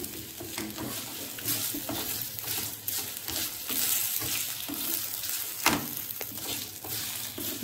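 Finely cut dried red chillies frying in a pan for peanut podi, a steady close sizzle with frequent scraping stir strokes and small clinks of the spoon against the pan.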